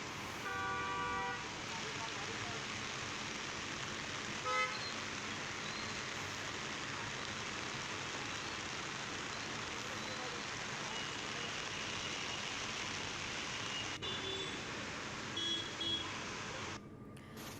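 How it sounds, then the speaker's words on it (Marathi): Traffic sits jammed in heavy rain on a flooded road near Bhiwandi, on the Nashik highway. Steady rain hiss fills the scene, and car horns toot at the start and again near the end. "भिवंडी परिसरात ही वाहतूक कोंडी झाली या पावसाच्या पाण्यातूनच वाहनांना वाट काढत पुढे जावं लागतंय"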